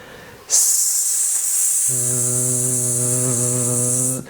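A voice makes a hissing s that turns into a sustained, buzzing z, imitating a large mosquito's drone.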